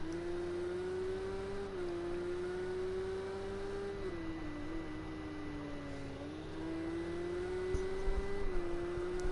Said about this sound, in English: let's go on board a lap in the Porsche Carrera Cup with Dean Wisocki